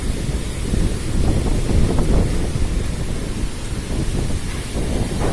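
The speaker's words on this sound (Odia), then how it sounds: "ଦେଖନ୍ତୁ କେତେ ଜୋର ପବନ ହେଉଛି, ଗଛକୁ ମଧ୍ୟ ଭାଙ୍ଗି ପକାଉଛି।" Strong cyclone Bulbul wind roars steadily and loud, a dense broadband rush with gusty low rumbling buffeting the microphone, no voices over it.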